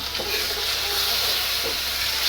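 Tofu and beef sizzling in a hot pan while being stirred, a loud steady frying hiss with a couple of soft scraping clatters from the utensil, close up with no talk.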